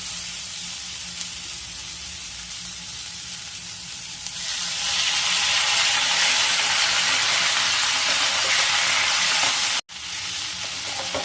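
Rice tossed into a pan of sautéing potatoes for a Bengali muri ghonto, with a steady loud sizzle that surges brighter and fuller partway through as the rice goes in, then continues with one brief break.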